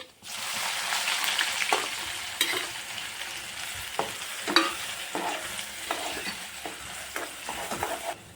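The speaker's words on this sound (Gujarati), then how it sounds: "હવે ડુંગળી નાખી દઈએ।" Onions fry in oil in a pan for a spicy whole-garlic curry, giving a steady sizzle broken by scraping strokes of a spatula stirring them.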